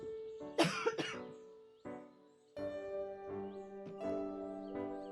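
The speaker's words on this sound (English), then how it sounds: "coughing here" A person gives a couple of sharp, close coughs near the start, then goes quiet while sustained tonal game music plays on underneath for the rest.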